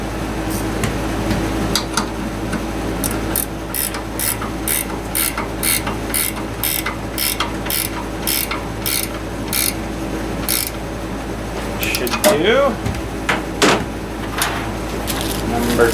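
Ratchet wrench clicking in quick, even strokes while tightening a threaded propane pipe fitting during a shed furnace install, close up, with a short clatter of handling near the end.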